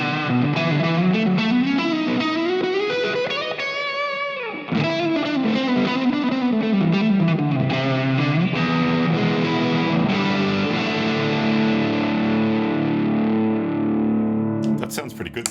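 Heavily distorted electric guitar through an overdriven amp simulator on a Mod Dwarf, loud and saturated, with sliding notes and sustained chords ringing through a thick effects wash.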